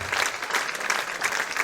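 A crowd at a squash final applauds, steady dense clapping from many hands filling the space at moderate volume, no voices.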